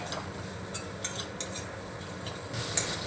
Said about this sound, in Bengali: প্রায় 2 মিনিট মতো নাড়াচাড়া করার ফলে দেখুন বন্ধুরা টমেটোগুলো প্রায় গলে এসছে